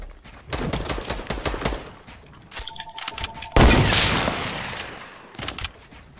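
Rapid bursts of automatic gunfire in a competitive scrim match of a shooter video game, a loud fusillade with a few sharp single shots and a heavy boom-like blast near the middle, dense and close throughout.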